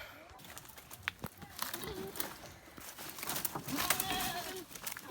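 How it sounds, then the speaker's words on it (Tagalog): Goats bleating nearby in a few wavering calls, mixed with rustling and farmyard noise and a person talking in the background. "Punta tayo dito sa may kambing"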